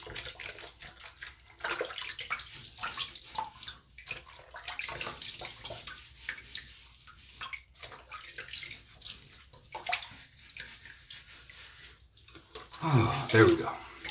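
Tap water running steadily into a sink to wet the face before shaving, close and continuous, with splashing and a louder gush near the end.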